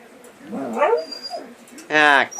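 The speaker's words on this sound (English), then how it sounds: "Shush it, dog." A dog whimpers and yips indoors near someone talking, with soft whines early on and a sharper, louder cry near the end.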